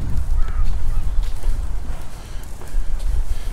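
Ducks and geese at Rowntree Park in York call beside an outdoor pond, with a few honks and quacks over a rumbling outdoor background and some footsteps.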